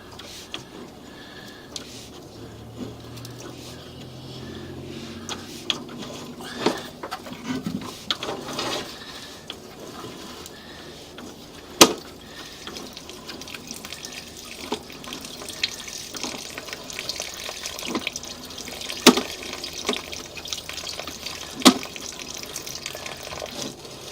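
Water gurgles and trickles through a pipe with intermittent splashes and a few sharp knocks, continuous and nearby.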